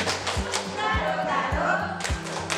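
A group plays the clapping game 'tepuk monyet' at a community health centre training session, with regular, evenly spaced claps and thumps and voices chanting along.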